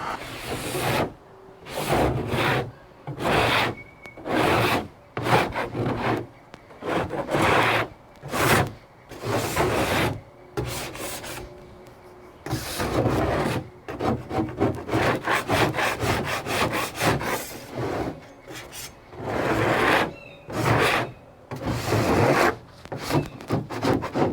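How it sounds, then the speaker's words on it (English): A big putty knife scrapes peeling paint off a car body in a budget strip-and-respray, the rasping strokes coming close and loud in a steady back-and-forth rhythm, with short pauses between bursts and no talk. "I got a big old putty knife."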